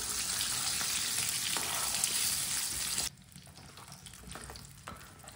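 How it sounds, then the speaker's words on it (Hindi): Chicken frying in a pan, a loud dense sizzle for about three seconds that drops abruptly to a quieter, softer crackle with faint clinks, close and without talk. "6-7 मिनट के लिए चिकन को फ्राई करना है ताकि चिकन हमारा अंदर तक पक जाए।"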